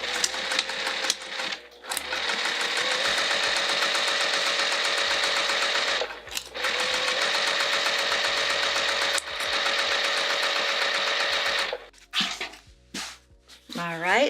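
A domestic sewing machine runs in long steady bursts while stitching a seam on a Fogerty bag, its motor whirring with a rapid mechanical needle clatter, pausing briefly between runs before winding down near the end.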